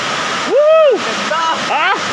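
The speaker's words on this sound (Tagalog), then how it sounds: "the Aliw Falls, the Dream Falls." The Aliw Falls waterfall in Luisiana, Laguna pours out a constant bright rushing hiss in the background, while excited voices whoop and exclaim over it.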